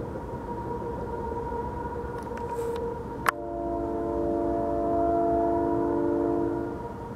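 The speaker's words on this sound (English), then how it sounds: "You hear that train whistle?" A distant train whistle at night sounds a long sustained chord, swelling and fading over several seconds after a sharp click, alone over a steady low background rumble.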